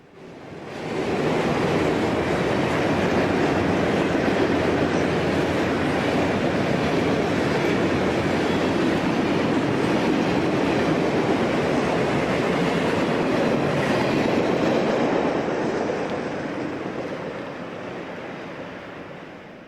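A Conrail freight train rolls past at Oak Harbor, a loud, continuous rumble and roar of wheels and cars that holds steady for most of twenty seconds before easing off at the end.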